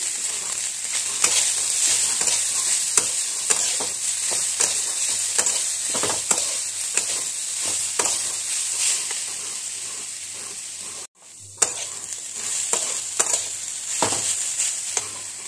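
Grated coconut frying in a pan with cashews and raisins while being stirred: a steady close sizzle with scraping stir strokes, broken by a brief pause partway through.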